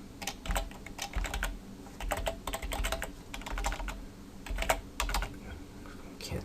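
Rapid typing on a computer keyboard during HTML5 coding, dense bursts of close key clicks with brief pauses between runs, no talk.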